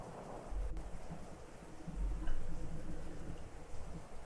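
A thunderstorm with low rumbling thunder and a steady hiss of rain, heard as a continuous, moderately loud background with deeper rolls swelling near the start and middle.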